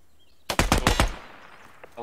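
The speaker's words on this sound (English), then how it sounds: "Someone shooting at me, I don't know where from though." Automatic gunfire in the tactical shooter video game Ground Branch, a short burst of four or five rapid shots at moderate distance, followed by quiet ambience.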